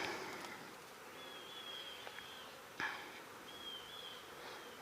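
Honey bees in an opened hive give a steady, faint buzzing hum that runs throughout, with a few light handling taps and rustles near the hive.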